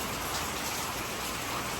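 Heavy tropical-storm rain pours down in a dense, constant hiss, loud and close with no pauses.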